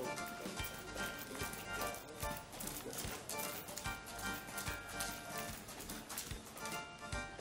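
A big horse walking on a farm, hooves clip-clopping in a steady, continuous rhythm, fairly loud and mixed with other background noise throughout.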